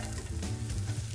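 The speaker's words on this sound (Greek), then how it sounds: "έτσι όπως είναι το κρεμμύδι, πάει κατευθείαν μέσα στο τηγάνι" Chopped onion sizzles in a frying pan as it is sautéed, a continuous crackling hiss with stirring scrapes, close and steady, with no talking.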